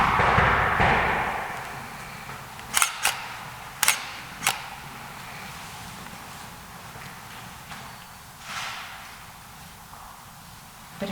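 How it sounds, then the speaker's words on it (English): Sharp knocks ring out inside the Nevada State Prison, about five of them in small clusters, loud and echoing over a quiet, hollow room tone. "So what we do is we'll sit here and knock."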